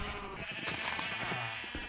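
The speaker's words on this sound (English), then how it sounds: "I think the sheep are blocking the way" A sheep bleats in the video game Minecraft, a single wavering call that sits over a soft background with quiet movement sounds.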